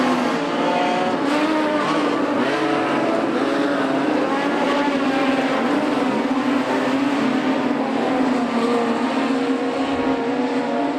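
Modified production race cars roar around Charlton Raceway at night in a Queensland title race, a dense, steady engine drone from a packed field that stays loud and continuous throughout with no voices.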